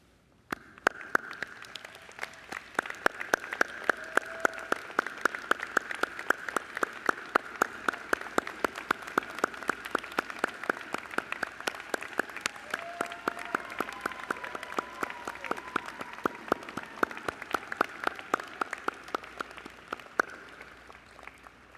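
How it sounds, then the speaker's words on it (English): Graduate families and audience at a commencement ceremony applaud steadily for about twenty seconds, dense clapping swelling then tapering, with faint voices and a brief whistle-like tone in the crowd. "give you a big round of applause"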